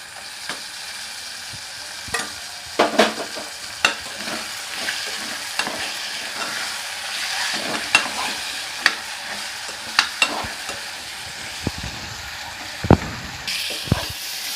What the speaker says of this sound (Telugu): ఇంకా ఉల్లిపాయలన్నీ వేగేసినాయి కదా, మటన్ కూడా వేసేస్తున్నాను